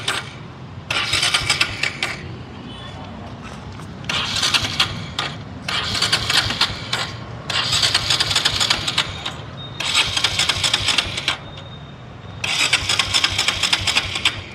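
A motorcycle engine with its spark plugs removed is cranked for an oil flush in repeated bursts of whirring, roughly two seconds each, separated by short pauses, close and loud, no voices.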